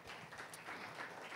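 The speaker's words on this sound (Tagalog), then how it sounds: "Malakas na palakpak sa Panginoon." Congregation at a church mission convention applauding together, a steady wash of clapping throughout, moderately near and fairly quiet.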